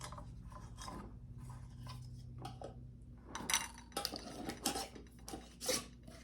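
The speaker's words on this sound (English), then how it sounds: "Just like the ranch, you can just shake it up like this or stir it up" Dry homemade taco seasoning mix is shaken in a lidded container, giving soft rattling and rustling bursts that build into several louder shakes toward the end, fairly close with no talking.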